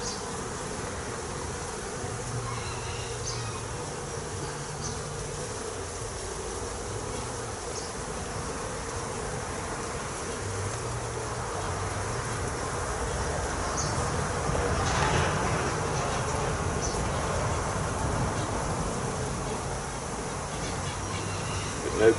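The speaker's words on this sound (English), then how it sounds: "Ooh, look at this side, full of bees." Honey bees swarm over the frames of an opened hive during an inspection, a dense, continuous buzzing hum that stays fairly soft and even, swelling slightly toward the end.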